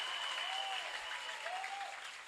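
Audience applause in a church gathering, a steady dense wash of clapping filling the whole short stretch at moderate level, with no talk over it.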